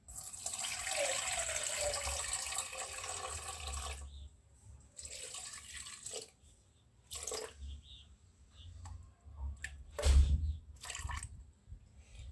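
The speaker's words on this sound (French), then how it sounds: "je vais mettre l'eau" Water poured into a bread dough mixture of sugar and yeast, a close trickling splash at first, then scattered drips and short pours with quiet gaps between.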